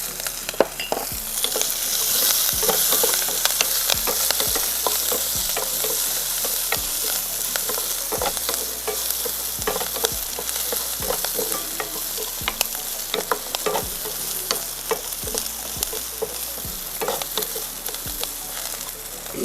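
Garlic and small shallots frying in a pan for a jackfruit-leaf thoran, a steady loud sizzle running throughout with regular scrapes and stirring knocks of a utensil against the pan.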